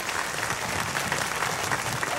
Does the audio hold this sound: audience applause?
yes